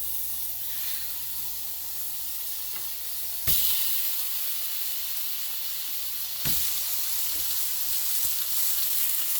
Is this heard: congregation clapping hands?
no